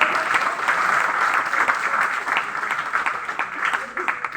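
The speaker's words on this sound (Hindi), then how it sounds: "एक और तालियां बजाइए" An audience at a Hindi comedy poetry gathering applauds in a continuous, dense wash of clapping that fills the hall, with a voice carrying over it.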